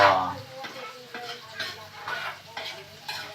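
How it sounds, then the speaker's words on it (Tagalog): Kikiam and fishballs frying in a pan, a soft sizzle under repeated stirring and scraping with a utensil, close and moderately loud, with a few clinks of cookware. "Ipiprito po natin ng konti ang kikiam."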